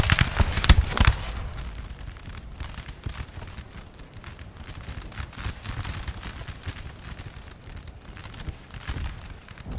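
Rolling musket volley fire in the Napoleonic battle game Napoleon Total War, with dense crackling gunshots that are heaviest at the start and then keep popping steadily over a continuous battlefield din.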